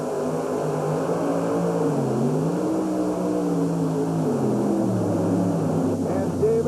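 Running Bear pulling machine at a 1991 USHRA event in Worcester, its engine roaring steadily and loud throughout with pitch rising and falling as it pulls against the chained sled, a faint voice underneath.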